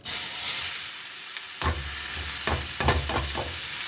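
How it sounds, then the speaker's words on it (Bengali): Thinly sliced ash gourd dropped into a hot wok, bursting into a loud close sizzle that settles into continuous frying hiss with a few clattering stirs. "কড়াই গরম হয়ে গেছে, চাল কুমড়োটা দিয়ে নিই।"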